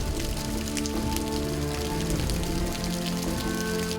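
Heavy rain pours down steadily, a dense continuous patter of drops hitting surfaces, loud and close, with no voices.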